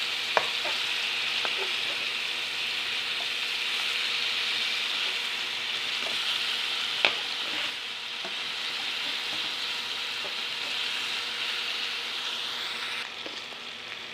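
Fish biryani masala fries and is stirred in a pan, giving a steady close sizzle with scattered light scrapes and clicks from the spoon, and no talking.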